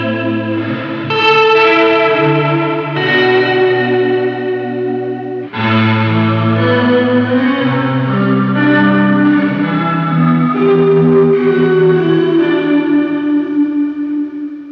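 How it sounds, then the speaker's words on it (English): Electric guitar runs through a Matthews Effects The Traveler pedal set fully wet, turning chords into a swelling synth-pad or faux string texture with chorus shimmer, two long sustained passages, loud and close with no voices. "it kind of changes your guitar from sounding like a guitar to sounding more of like a synth pad or kind of like a faux string section"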